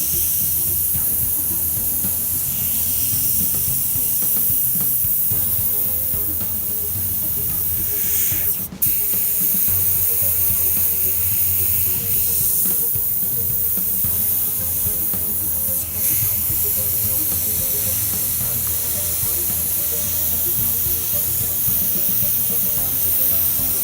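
An airbrush sprays paint on a 1978 Chevy van, a continuous close hissing air spray running throughout with slight shifts in tone and a couple of brief interruptions.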